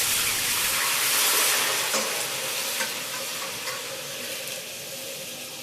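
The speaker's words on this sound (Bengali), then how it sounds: "পেঁয়াজ সুন্দরভাবে ভাজা হয়ে গেছে" Chopped onions frying in hot oil in a kadai with cumin, bay leaf, dried chilli and whole garam masala, a steady close sizzle with scraping stirring strokes, loud at first then settling slightly.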